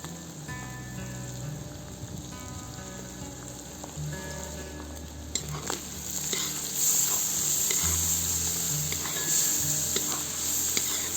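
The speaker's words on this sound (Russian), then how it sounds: "Теперь я добавляю в казан мелко нарезанный чеснок." Finely chopped garlic sizzles and crackles steadily in a kazan over a wood fire, a close, continuous frying hiss with occasional stirring scrapes that grows slightly louder partway through.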